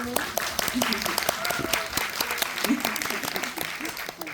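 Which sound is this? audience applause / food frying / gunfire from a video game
audience applause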